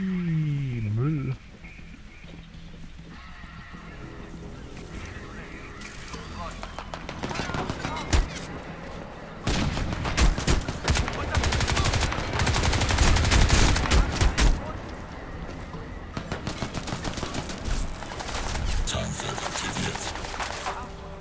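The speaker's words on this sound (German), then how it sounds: "Wo schießt denn da einer?" Rapid gunfire in the shooter Crysis 2, with dense bursts of shots and clattering volleys that build in the middle and then thin into scattered cracks, loud and close, with someone talking over the combat.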